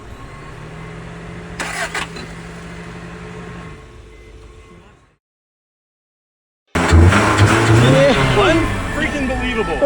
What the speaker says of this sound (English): we decided that there was no harm in trying to start the car